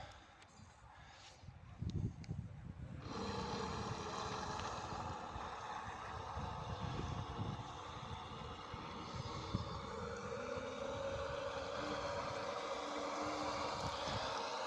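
A homemade bait boat with an autopilot runs its motor steadily for the whole stretch, a continuous moderate hum close by with light water noise, starting after a few seconds of quieter handling sounds.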